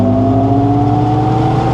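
GMC Hummer EV SUV accelerating hard on all-terrain tires, a loud steady electric-motor whine with droning tonal hum and tire roar, close and continuous with no pauses.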